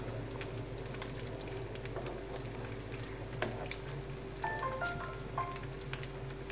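Chicken potato croquettes fry steadily in oil in a pan, a continuous close sizzle with soft crackles and a few faint clinks over a low hum.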